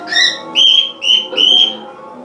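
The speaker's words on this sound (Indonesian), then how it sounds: "Suara TV, suara burung, suara saya." Birds chirp indoors in a noisy house, with four short, bright, close chirps in quick succession over faint background chatter and television sound.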